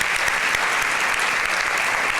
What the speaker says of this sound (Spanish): Un aplauso para nuestro orador, Magín Díaz, director general de impuestos.